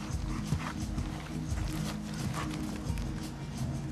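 Horse hooves beat in a rhythmic canter through dressage half passes in an arena at a European championship, soft repeated thuds under a faint crowd murmur.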